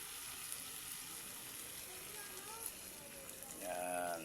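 Coconut milk goes into a pan of squid, giving a soft, steady sizzle that swells into a louder, bubbling hiss near the end, with a quiet voice faintly present.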